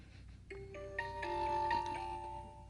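A text message alert tone on a phone, a short melodic electronic chime of several rising tonal notes that overlap and ring for about two seconds, faint against a quiet background.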